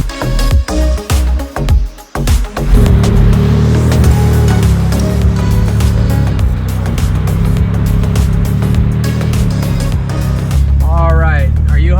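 A low-slung Ferrari driving near a McDonald's drive-thru, a loud steady engine drone after a few opening bumps and thuds, with tonal whine rising near the end.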